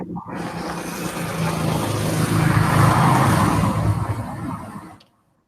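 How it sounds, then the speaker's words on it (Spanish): Street traffic picked up through a computer microphone during an online robotics mechanics class, a steady close rush of passing cars that swells midway and cuts off abruptly. "Hay uno que está en la calle, me parece, porque se escuchan los autos."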